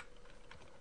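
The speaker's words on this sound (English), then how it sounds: "So I'm just going to type in here." Fast, steady typing on a computer keyboard, rapid light key clicks in an even rhythm, quiet and close, with no talking.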